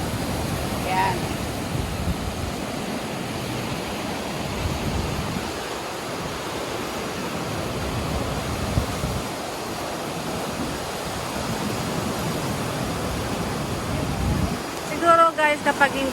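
Rough, storm-whipped sea surging against large rocks along the shore at Bitukang Manok in Atimonan, Quezon, a steady broadband roar with wind buffeting the microphone, swelling slightly near the end.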